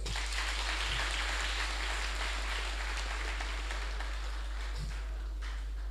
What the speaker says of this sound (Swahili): Hebu mpigeni makofi rais